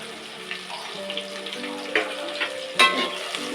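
Green chillies, curry leaves, onion and cashews fry in a pan with a soft, steady sizzle, broken by a few light clinks and a sharper scrape near the end, close and without talk.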